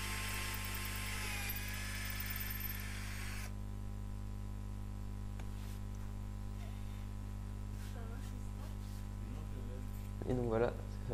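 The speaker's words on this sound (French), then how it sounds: "Je perce de chaque côté pour ensuite rejoindre les trous au milieu." Drilling string-through holes in a Les Paul guitar body, a high-pitched drill whine for the first few seconds over a constant low hum, then quieter handling and a brief squeaky sound near the end.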